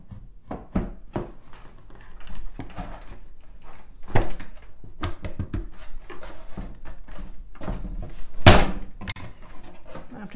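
A cupboard door is knocked into place by hand, giving a run of sharp wooden bangs and knocks at irregular intervals, close up, with the loudest thumps near the end.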